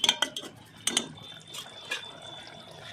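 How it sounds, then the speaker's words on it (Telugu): A spoon clinks and scrapes against a pot while egg curry with boiled eggs is being mixed, several sharp metallic taps close by early on, then softer scraping, with no talk. "మిక్స్ చేసుకుంటున్నాం."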